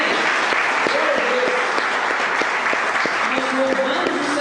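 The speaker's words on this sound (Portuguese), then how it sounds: "Vamos aplaudir a Deus, irmãos." A church congregation claps together, steady dense applause filling the space, with a voice speaking over it and brief musical tones in the background.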